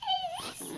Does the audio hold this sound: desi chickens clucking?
no